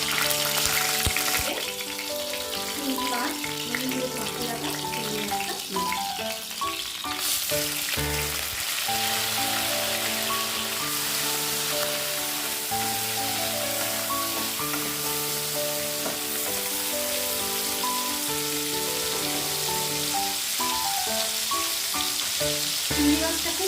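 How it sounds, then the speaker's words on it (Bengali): Slit green chillies hit hot oil with black cumin and sizzle steadily, a constant crackling fry close to the pan that runs unbroken for over twenty seconds, with occasional brief stirring sounds and no talk. "কালো জিরেটা ভাজা হয়ে গেলে এতে আমি চিড়ে রাখা কাঁচা লঙ্কাগুলো দিয়ে দিচ্ছি।"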